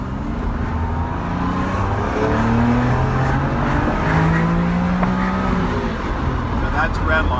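A Porsche 959 with a boost kit, driven from the passenger seat, holds a loud, steady engine roar inside the cabin as it climbs toward redline, while someone speaks over the noise.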